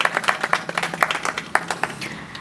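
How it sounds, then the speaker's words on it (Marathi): Clapping rings out for a government officer newly promoted after passing the MPSC exam, a quick, uneven burst of hand claps from a small crowd, close and fairly loud. "त्यासाठी जोरदार टाळ्या भाऊंसाठी"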